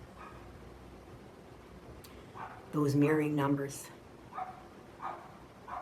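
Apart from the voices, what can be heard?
dogs barking in the background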